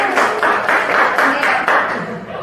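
Classroom applause as students clap together in a steady, rhythmic pattern of repeated bursts about twice a second, loud and close, filling the room throughout.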